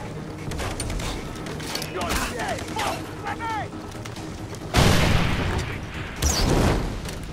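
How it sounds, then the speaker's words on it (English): Explosions from explosive-tipped arrows in the video game Far Cry 3, a loud burst of broadband blasts with rumbling tails, mixed with other game effects and some voice activity. "can also go craft fire tips and explosive tips"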